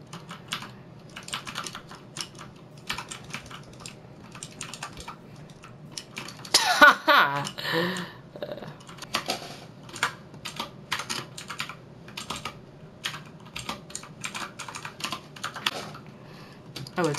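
Rapid typing on a computer keyboard during an online game, dense clicking keystrokes throughout with a brief louder burst of noise partway through, close and clear.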